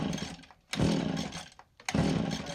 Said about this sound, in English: Ain't gonna pull it any more than that on choke, cause you'll just flood it out.